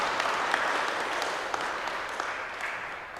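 A church congregation applauds to welcome guests during a Sunday worship service, a dense, even wash of clapping that fills the room steadily and fades slightly toward the end, with no talking over it.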